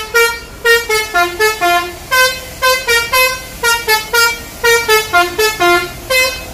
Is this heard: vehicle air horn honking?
yes